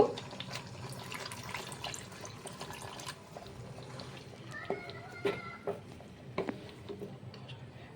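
Water poured into a pan of chicken malai kofta curry, a soft steady trickle and splash at close range, followed by a few sharper taps and clinks toward the end.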